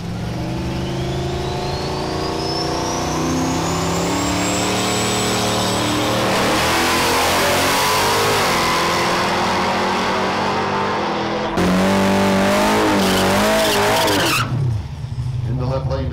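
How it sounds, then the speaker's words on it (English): A 1981 Pontiac Trans Am at a drag strip, engine roaring and revving hard with rising pitch through the launch and tire noise, loud and close, while an announcer talks over it. "The left lane is going to be the 0X76 Jerry Rice, his 1981 Pontiac Trans Am."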